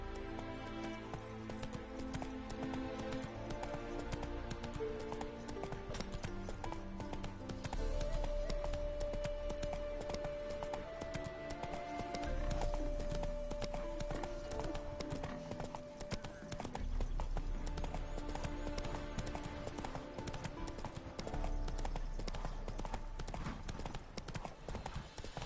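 Roach the horse gallops in The Witcher 3 video game, with rapid rhythmic hoofbeats running continuously over a layer of game music. Occasional short snorts can be heard.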